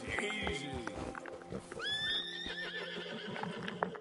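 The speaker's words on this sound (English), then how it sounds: "It's hard to break the White Arabian horse." A white Arabian horse in a video game whinnies loudly with rising and falling cries, while hoof clip-clops and other game sounds continue underneath, with a voice talking faintly over parts of it.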